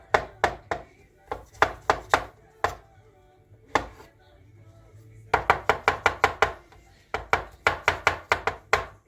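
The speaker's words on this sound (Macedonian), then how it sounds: "Следно ги сецкаме печурките на ситно и ги додаваме во садот." Mushrooms being chopped finely with a knife on a board in a home kitchen: quick bursts of crisp, close, rhythmic taps, pausing briefly before resuming in fast runs.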